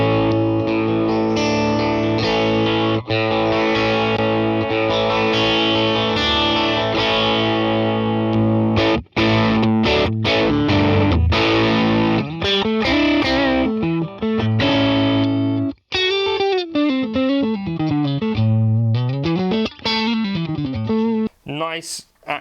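Fender American Ultra Telecaster electric guitar with its pickups switched in series, played through heavy distortion: sustained chords, then rapid bends and shifting single-note lines, loud and alone with brief gaps between phrases.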